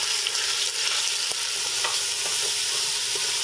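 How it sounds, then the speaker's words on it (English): Chicken pieces sizzle loudly in hot oil for jambalaya, a constant close crackling fry with small pops and stirring scrapes. "we're going to add the chicken to that hot oil. You want it to sizzle the second you go in,"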